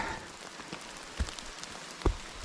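Steady rain falls on a rocky hiking trail in Maine, a soft continuous hiss with a couple of louder nearby drips or taps, and no talking.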